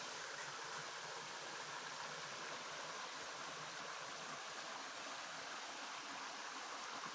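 Tinker Falls waterfall pours in a steady, even rush of falling water, close and continuous throughout with no voices.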